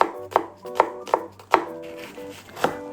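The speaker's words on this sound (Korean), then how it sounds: "이쁘게 쓸 필요도 없고 그냥 막 썰어주시면 됩니다" A knife roughly chops a small onion and garlic on a cutting board, making five sharp, close strikes spaced unevenly over a few seconds, with no voices.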